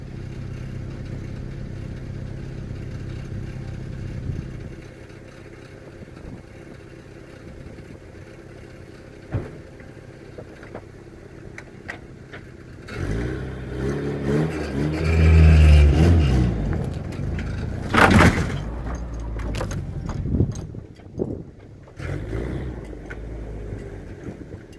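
Engine of a homemade tracker buggy rig straining as it drags a car across snow, a steady low drone that swells louder and rougher midway with some clattering, no talk.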